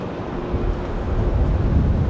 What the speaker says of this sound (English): It's windy in the Netherlands too.